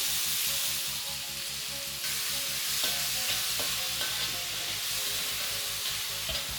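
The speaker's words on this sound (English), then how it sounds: "Next, I am going to add the tomatoes." Tomatoes and salt hit a hot pan for kadai paneer, giving a steady, close sizzle with stirring scrapes and clicks throughout, and no voices.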